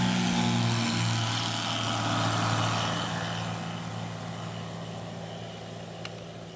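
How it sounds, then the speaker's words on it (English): An 80 horsepower Rotax 912 engine on a homebuilt CH701 aircraft at takeoff, droning with a steady hum that is loud at first and slowly fades as it pulls away, with no talking. "I have the 80 horsepower Rotax 912 installed, and you should now visually notice the takeoff."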